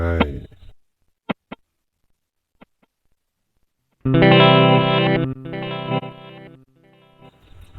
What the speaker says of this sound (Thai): วันนี้จะมารีวิวบอส DD7 นะครับ